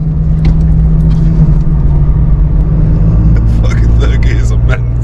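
A car pulling hard in third gear, a loud, dense engine drone and rumble close up with rattling in the cabin and a voice shouting over it.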